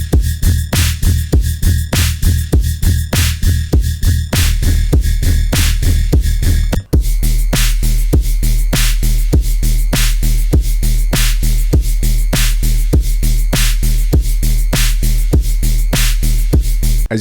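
A deep, pulsing electronic synth bass plays a steady repeating rhythm with sharp percussive hits, loud and upfront, briefly cutting out midway.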